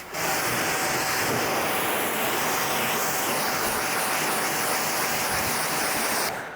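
Steady broadband rush of water sheeting off a freshly clayed car hood during a wash, a continuous close hiss lasting throughout with no talking, ending abruptly.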